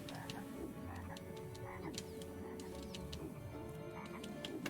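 Frogs croak in the MediEvil video game, a steady chorus of repeated guttural croaks layered with sharp clicking calls, continuous and fairly loud throughout.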